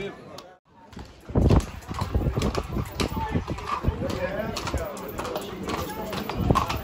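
Horses clip-clop at a horse beauty contest held during a festival in Kapi on Lesvos, with hoofbeats mixed into steady crowd chatter and people talking nearby.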